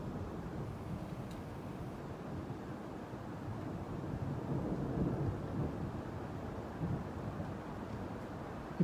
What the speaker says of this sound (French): Écoute la pluie, écoute la pluie.